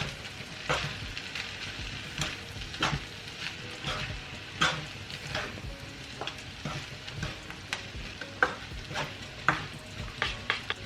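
Beef chao fan fried rice, seasoned with salt and pepper, is tossed in a hot pan, giving a steady sizzle with repeated scraping stir strokes at an irregular rhythm throughout, close and clear with no talking.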